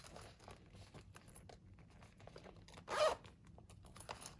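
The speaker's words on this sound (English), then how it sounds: "And I appreciate the zipper." A zipper on a book-subscription unboxing item, likely a bag or pouch, pulled open in one quick burst amid soft rustling and handling noise, fairly quiet and close.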